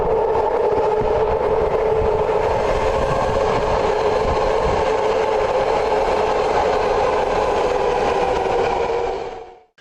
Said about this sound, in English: It started with the BART train in San Francisco. It makes the absolutely worst sound pulling into the station.